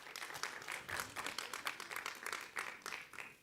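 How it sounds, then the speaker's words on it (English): Faint applause for Columbus Board of Education members at a superintendent search community forum, many hands clapping steadily from a distance for a few seconds. "Let's give them a round of applause."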